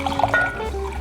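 Jim Beam bourbon poured into a measuring cup while making a bourbon glaze for salmon, a short close splash and trickle of liquid lasting about a second.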